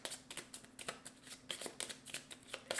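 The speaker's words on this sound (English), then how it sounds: "So these need to be shuffled." A deck of cards from the My Little Pony deck-building board game being shuffled by hand, a rapid series of crisp riffling bursts, close and fairly quiet, with no talking.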